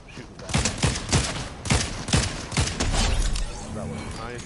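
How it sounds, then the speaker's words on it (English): Repeated gunfire bursts in the Fortnite video game, sharp shots in quick clusters with loud impacts and a short sustained stretch near the end. "There's a bot landing. I'm gonna shoot him back."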